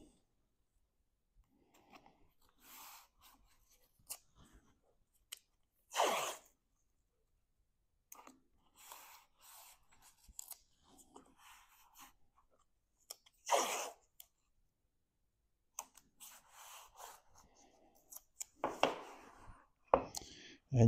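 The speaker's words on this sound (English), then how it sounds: "So now I apply tape along each of the seams." Tape is pulled and pressed along the seams of wood staves for a coopered chest lid, making scattered quiet ripping and crackling bursts with silent gaps between them, close by.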